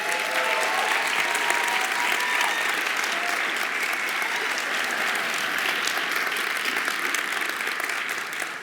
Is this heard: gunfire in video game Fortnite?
no